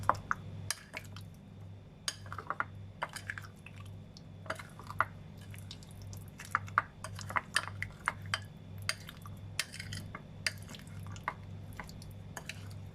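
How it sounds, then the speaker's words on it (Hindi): Spices including turmeric and garam masala being stirred into a raw chicken marinade for Hyderabadi kachi biryani, heard as soft wet squishing and scattered light clicks and taps of utensil against bowl over a low steady hum. "अब इसको अच्छे से मिक्स करना है।"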